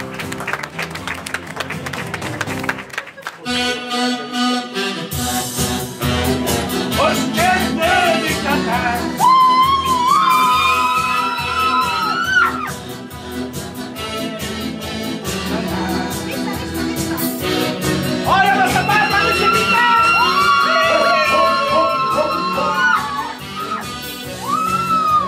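Wedding guests clap and cheer for the groom while loud music with bright melodic lines plays over the top, the applause running under the music throughout.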